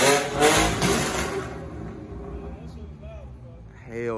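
A straight-piped car exhaust revs loudly and raspily up close, then the engine drone settles lower, with people talking over it.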